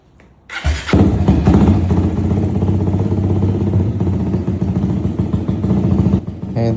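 A Suzuki Raider FI motorcycle engine catches after a short quiet moment and revs steadily up close during a throttle cable check, running loud and unbroken before cutting off near the end.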